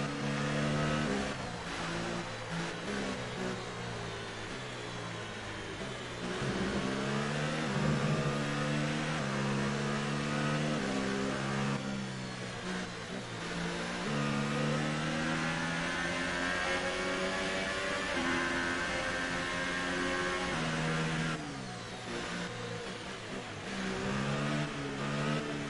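A Formula 1 race car in the F1 2018 video game revs and accelerates repeatedly while warming its tires, a loud, continuous engine note rising and falling through gear shifts.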